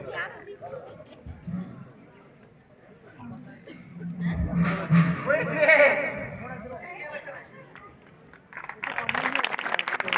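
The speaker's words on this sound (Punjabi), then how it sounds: "ਤਾਲੀਆਂ ਤਾਲੀਆਂ ਤਾਲੀਆਂ ਵਜਾਓ" Congregation in a devotional gathering clapping together, a broad wash of hand claps swelling mid-clip and returning at the end amid crowd murmur and a voice speaking over it.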